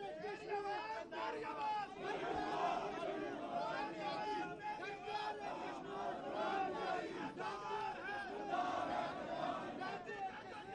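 A political crowd chanting slogans, many voices shouting together in a dense, continuous roar that rises and falls in rhythmic bursts, heard at a moderate distance.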